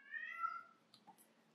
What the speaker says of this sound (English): I do apologize for the cats.